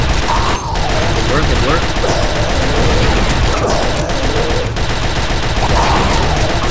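Sustained turret gunfire from the Star Wars Republic Commando video game rattles on loudly throughout, dense bursts blending with battle noise while a voice briefly talks over it.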